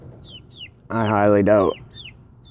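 A backyard chicken lets out a loud, drawn-out squawking cluck close by, with faint chirps before and after and a brief bit of speech.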